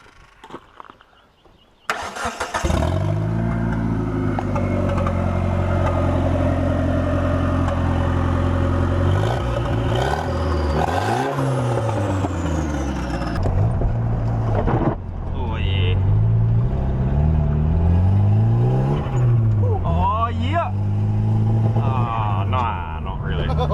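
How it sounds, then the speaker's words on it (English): A 4G63 turbo engine cranks and fires up, then runs loud and close with a rough idle and several rising and falling revs, while someone talks over parts of it. "so re-gap spark plugs back in there, see if it fires up."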